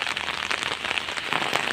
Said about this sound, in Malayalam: ഓ, മഴ കൂടുന്നു.